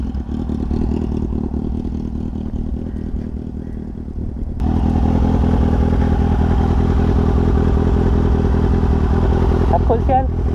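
A Kawasaki Ninja ZX-6R 636 engine-brakes with the throttle released, a loud, close, rapid pulsing engine drone that steps up in intensity partway through, with a rider's voice over it.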